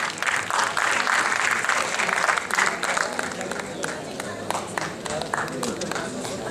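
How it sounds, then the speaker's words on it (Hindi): Sustained applause from an audience at a ceremony honouring women on Savitribai Phule's birth anniversary, loud and thick at first, then thinning into scattered individual claps, with voices murmuring beneath it. "तालियां बजती रहे।"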